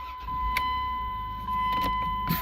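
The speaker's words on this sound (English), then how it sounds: "Turn the key back on." A car's ignition key is turned back on, bringing a faint click and jingle of keys, then a steady electrical whine and hum from the vehicle with a brief chime-like tone, close and quiet.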